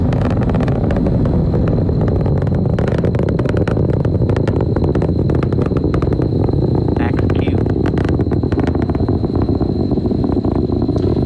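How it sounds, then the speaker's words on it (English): A SpaceX Falcon 9 rocket climbing after liftoff from Kennedy Space Center's LC-39A on the Dragon CRS-23 mission, its Merlin engines giving a loud, steady, crackling roar, with a voice talking over it. "Falcon 9 has cleared the tower and is currently headed to space."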